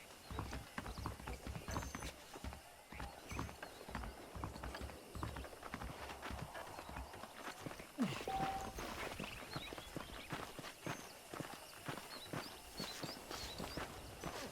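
Horse hooves in the video game Red Dead Redemption clip-clop at a steady walking pace over a soft ambient background, with faint creaks and a distant whinny-like call.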